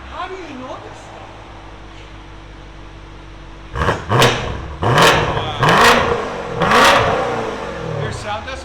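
A BMW M850i with a 4.4-litre twin-turbo V8, tuned to 850 hp, idles with a low rumble and then blips loudly through a double X-pipe exhaust, producing about four sharp, close revs that rise and fall.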